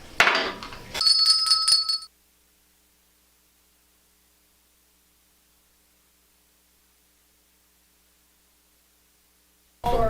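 A small hand bell rings with a clear, bright, sustained tone for about a second after a short burst of noise, then everything falls silent until another brief noisy burst at the very end.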